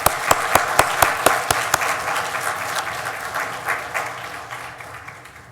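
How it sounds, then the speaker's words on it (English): A graduation ceremony audience bursts into applause, with a few sharp, distinct claps at the start that quickly merge into a full, even wash of clapping and then gradually fade. "Let's give him one more hand of applause."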